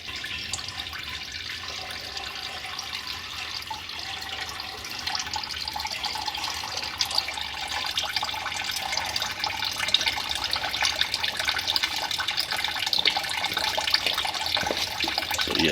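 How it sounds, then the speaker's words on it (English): Water runs and trickles steadily into the coolant overflow tank of a Ford Crown Victoria during a coolant flush, a continuous close splashing that grows slightly louder and busier over time, with no talking. "I'm going to pour some water into the overflow tank"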